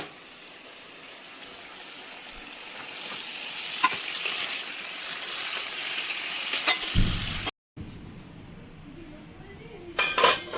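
Katla fish pieces frying in a bubbling spice paste for a Bengali-style kalia make a steady, close sizzle and hiss, with occasional clinks of a utensil on the pan and a brief gap near the end.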